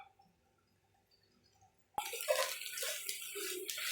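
Soybean chunks frying until reddish-brown in foaming oil: after about two seconds of near silence, a loud, dense sizzle bursts in and holds steady to the end, with no talking.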